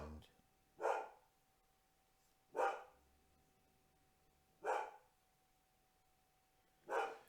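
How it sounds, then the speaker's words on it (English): A dog barks four times at spaced, regular intervals, each bark single and moderately distant, with near silence between them. "I hope that dog gets a little bit calmer."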